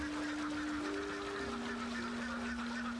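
Ducks honk and call steadily among the harvested rice fields of Kuttanad, Kerala, India, their cries holding long tones over a constant outdoor wash.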